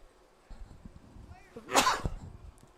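A single sharp sneeze bursts out nearby against a quiet background, at a youth baseball game.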